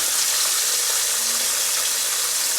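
A fish filet pan-fries with a steady, dense sizzle that fills the whole stretch, loud and close, with no talk over it.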